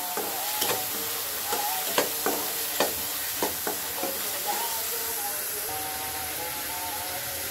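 Turmeric, chili powder and salt sautéing in a hot pan, a steady sizzle broken by a series of sharp spoon scrapes and taps in the first half, with a faint voice drifting in from far off.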